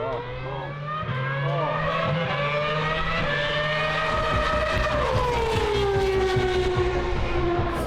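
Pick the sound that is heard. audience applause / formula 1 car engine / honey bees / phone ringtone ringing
formula 1 car engine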